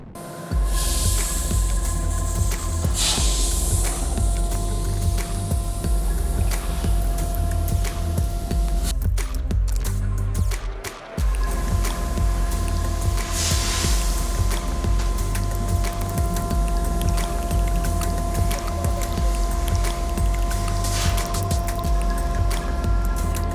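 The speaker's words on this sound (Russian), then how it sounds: "Сейчас я вам сделаю небольшую демонстрацию лазерной резки" A laser cutting machine slices metal at a large metal-processing plant, giving a steady, loud hiss and hum with faint tonal whine that runs continuously, briefly dipping near the middle before resuming.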